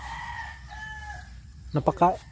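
A chicken clucks in a rural yard, giving a short burst of two or three loud throaty calls near the end after a quiet stretch with faint whistling tones.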